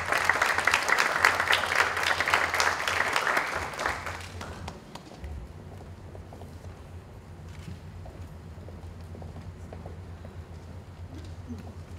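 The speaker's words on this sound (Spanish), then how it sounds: "Recibimos con un fuerte aplauso a Aurora." An audience welcoming a speaker claps loudly for about four seconds, then the applause cuts off, leaving quiet room ambience with low hum and faint scattered sounds.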